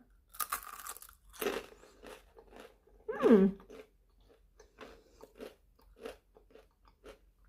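Someone bites into a crispy carnivore pizza with a sharp crunch near the start, then chews with a loud crackling bite in the middle and softer, intermittent chewing after it, close up with no talking.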